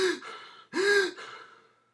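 A voice imitates the wheezing of a runner just finished with a marathon: two strained, raspy gasping breaths, the second longer and louder, heard close and alone.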